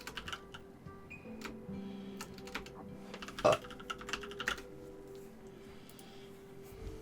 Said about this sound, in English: How do you type that in?